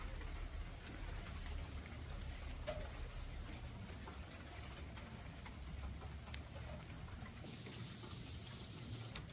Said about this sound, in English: It's starting to rain harder now.